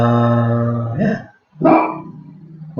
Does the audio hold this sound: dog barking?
yes